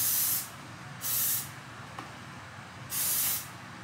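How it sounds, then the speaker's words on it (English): Three short hissing bursts of hair spray from a bottle onto damp hair, each about half a second, close and crisp against a quiet room. "And I just spray."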